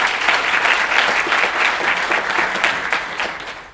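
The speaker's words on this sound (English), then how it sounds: "Give them a round of applause." Sustained applause from a large conference audience, steady and dense clapping throughout with no voices over it.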